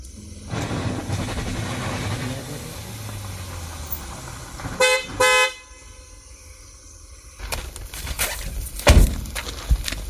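A car horn honks in two short, loud blasts, with scattered vehicle and street noise before and after, and no talk.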